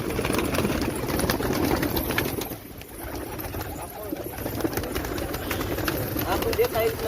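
Pigeons in a pigeon house give soft, repeated cooing amid steady rustling and background noise, with a brief dip in the middle and the birds continuing throughout.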